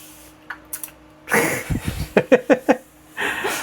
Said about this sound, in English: a spray bottle with dechlorinated water or RO